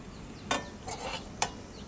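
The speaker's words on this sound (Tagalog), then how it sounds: "Hintayin natin mag-brown ng konti yung bawang." Garlic frying in a pan as it browns: a few brief crackling sizzle bursts at irregular moments over quiet background, close and moderate in level, with no talk.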